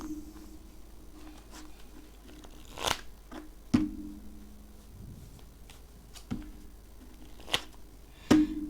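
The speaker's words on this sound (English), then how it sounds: "Shuffle 5 times, cut, and then spread." A deck of cards shuffled by hand several times, quiet riffles and sharp snaps spaced out irregularly against a faint background hum, close up and alone with no talking.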